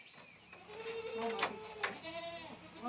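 Goats bleat several times in wavering, nasal cries, a couple louder bursts standing out over low background chatter.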